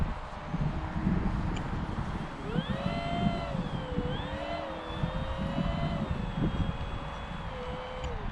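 A small aircraft taxiing out before takeoff on a windy day, a steady engine drone with a whining tone that rises and wavers, heard from inside under constant rumble.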